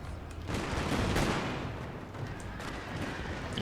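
Musket volley fire in Total War: Fall of the Samurai, a sustained crackling roar of many rifles firing together on the battlefield, loud and dense, swelling then easing off, with no voices.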